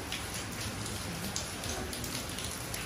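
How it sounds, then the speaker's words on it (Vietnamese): Heavy rain pours steadily outdoors over a garden where a tree is being worked on, a dense, even hiss of drops hitting surfaces that stays loud and constant throughout, with no voices. "Mưa quá."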